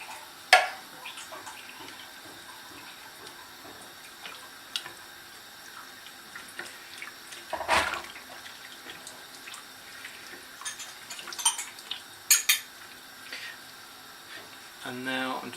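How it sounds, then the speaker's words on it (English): Hot water poured into a tomato tin to rinse it out, with faint splashing and dripping, sharp clinks and taps of metal and kitchen clatter at moments, low and intermittent. "now I'm just going to use the hot water to rinse out the tomato tin"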